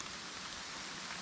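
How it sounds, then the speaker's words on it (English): Rain falling outdoors during a motorbike ride, a steady dense hiss of drops with no distinct pattern, brief and even. "Oh, here's a bit of rain. Here comes the rain."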